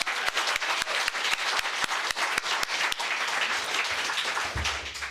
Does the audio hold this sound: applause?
yes